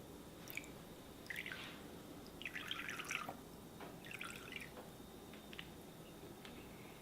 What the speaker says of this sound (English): add some lime juice